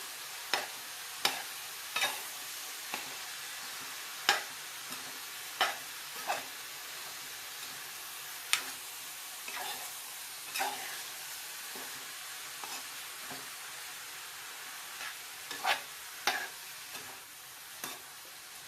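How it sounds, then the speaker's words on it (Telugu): Bottle gourd curry sizzles softly in a pan under a steady frying hiss while a spoon stirs it, scraping and tapping the pan in scattered, sharp strokes. "ఇట్లా తిప్పుకుంటూ ఉండాలండి"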